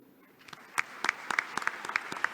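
Applause from the audience at a youth summit on the digital era, a light, sparse scatter of distinct claps with a few louder ones standing out, heard fairly close and quiet.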